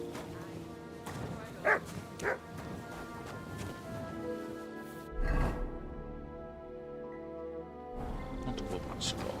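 A dog in the medieval video game Kingdom Come: Deliverance II gives a few short yips and barks amid game ambience, fairly close and moderately loud, with a brief whimper and some speech nearby.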